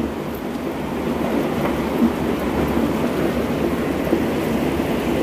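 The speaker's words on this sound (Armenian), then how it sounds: "կարկուտ" Hailstorm with thunder and heavy rain: a dense, steady roar of falling precipitation with low rumbling underneath and occasional sharper impacts, continuous and fairly loud throughout.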